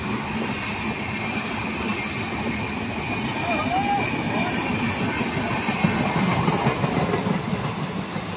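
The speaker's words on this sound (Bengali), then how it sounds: "বাড়ির সামনে দিয়ে এইরকম ট্রেন গেলে ভীষণ ভালো লাগে।" A train rumbles past close in front of a house, a loud continuous roar of wheels on rails that swells toward the end, with a faint squeal midway.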